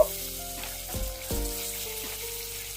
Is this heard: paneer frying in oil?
yes